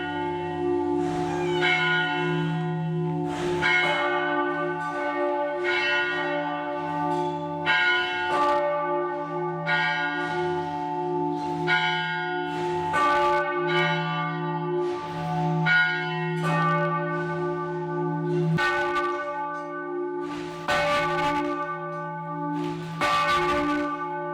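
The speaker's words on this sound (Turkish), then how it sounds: "Saat 12 ve çanlar bizim için çalmaya başladı." Church bells in the town hall tower of Mladá Boleslav ring at noon, heard from close by as a steady, rhythmic peal of overlapping strikes that continues throughout and rings out alone.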